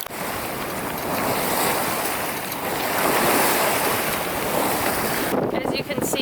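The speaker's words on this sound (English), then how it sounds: "plowing into these waves though." A sailboat plowing into ocean waves while crossing the Gulf Stream, with a continuous loud wash of surf and water rushing past the hull, mixed with heavy wind buffeting the microphone.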